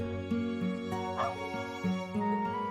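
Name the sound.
dog barking in Trails of Cold Steel IV video game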